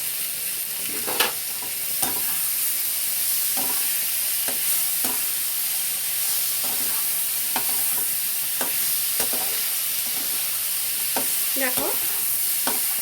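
Green chilli paste frying in a pan while stirred, a steady close sizzle broken by frequent sharp spatula scrapes and taps in an uneven rhythm; a voice briefly speaks over it.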